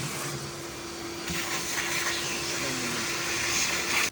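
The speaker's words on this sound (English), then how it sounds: "Use a shop vac to suck out any debris." A shop vac roars steadily and close, sucking debris and shavings out of an X-Treme bait tank while drain work is done, with a constant drone and a slight rise in suction noise partway through.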